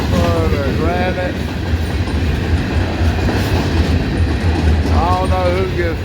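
Freight train of grain hopper cars passing nearby, a loud steady rumble and clatter of wheels on rails with intermittent squealing, and a voice talking underneath.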